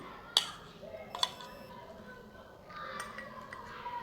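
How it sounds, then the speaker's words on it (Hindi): A metal spoon pressing mashed cucumber in a bowl to squeeze out juice, giving two sharp clinks near the start and softer scraping and tapping afterward, close by, with someone talking over it. "ऐसे आपने स्पून से इसको प्रेस करेंगे तो इसका जितना भी है जूस वो आपके बॉल में आना शुरू हो गया है।"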